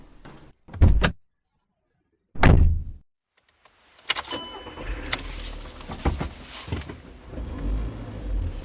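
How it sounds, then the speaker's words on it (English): Two sharp bangs of a door slamming shut in a radio drama, followed after a short pause by a car door thud, clicks and an engine turning over and idling. "She grabs the car keys and slams the door."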